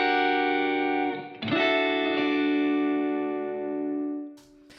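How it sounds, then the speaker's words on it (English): A snappy, clean electric guitar tone built in Guitar Rig rings out with reverb: a sustained chord that is restruck once, then decays smoothly, with a faint pick noise at the end. "I built a snappy, clean tone for a guitar that you may receive a DI for"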